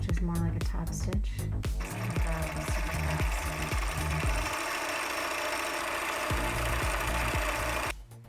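A sewing machine top stitches khaki fabric, close rapid mechanical clatter in short bursts at first, then a longer continuous run before stopping, with a voice speaking briefly.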